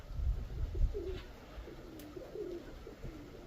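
Pigeons coo softly at a dovecote, with several low, rolling calls repeating at a moderate distance over steady outdoor background noise.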